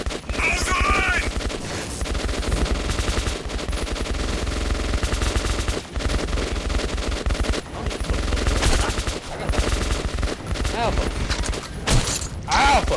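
Dense gunfire fills a video game battle, with rapid machine-gun bursts and overlapping shots going on nonstop and loud, while players' voices call out over it.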